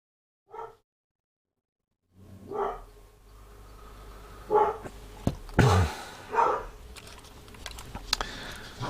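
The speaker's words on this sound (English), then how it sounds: "Puppies are going mad." Puppies bark and whimper excitedly indoors, sharp yips arriving in bursts after a short silence, with a busy, excited chorus that carries on through the rest.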